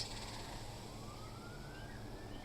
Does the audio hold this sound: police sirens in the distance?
yes